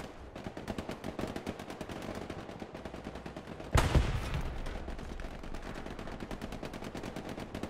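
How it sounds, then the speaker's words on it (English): Dense, continuous gunfire from the Hell Let Loose video game, rapid overlapping shots rattling steadily throughout, with a sharp, louder blast near the middle, and no talking. "As much bullets that's being fired right now, you would think."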